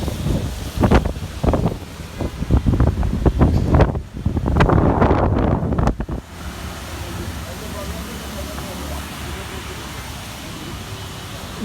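Gusty wind buffets the microphone outdoors in rain, with loud rumbling bursts over the first six seconds, then a steadier quieter roar; a person speaks during the clip.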